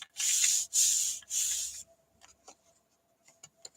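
Paper card pieces are pressed into place for a standing box card, three close scraping rubs of paper followed by faint small taps and rustles.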